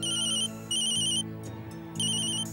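A telephone rings with an electronic ringtone, two bursts of bright repeating tones with a short gap between them, clear and alone.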